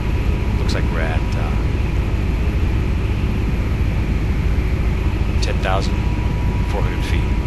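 Steady, loud turbine and rotor drone of an EH-101 helicopter climbing at high altitude in the FSX flight simulator, unbroken throughout with a few faint higher chirps over it.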